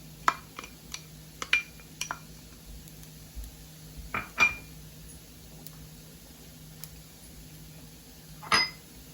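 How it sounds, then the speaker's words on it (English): Spoon clinking and scraping against a pot while onion, garlic and scallions are mixed into rice for yellow rice, a scattering of sharp metallic taps and scrapes over a quiet background hum. "I'm going to mix this in and allow the onion and all my garlic and the scallions to fry"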